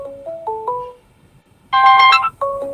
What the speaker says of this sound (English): Another phone call, y'all.